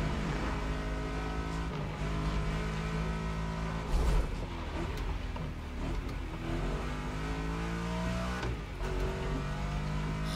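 A car engine drones steadily in the racing game The Crew Motorfest, holding a continuous loud hum with small shifts in pitch as the car drives along.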